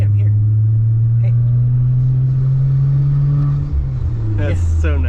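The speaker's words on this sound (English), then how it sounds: "I can still hear that that supercharger" 2006 Acura TL fitted with a Comptech supercharger, cruising with a steady engine drone and a faint high supercharger whine that dips near the end, while people talk inside the car.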